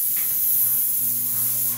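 Loud, steady hiss of an airless paint sprayer continuously spraying paint onto wood trim near a staircase, with a low motor hum underneath before it cuts off at the end.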